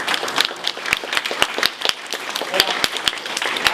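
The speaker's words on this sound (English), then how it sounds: "some of you that are clapping now might not clap the next answer" An audience claps at a Berks County congressional town hall, with a crowd of scattered hands and a few sharp, loud individual claps standing out, uneven and close, continuing throughout.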